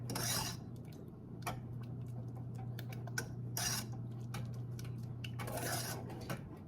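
Butter is stirred in a pot for homemade chocolate icing, a utensil scraping and clinking against the metal in soft, irregular strokes. The sound is close but quiet, with a low steady hum beneath.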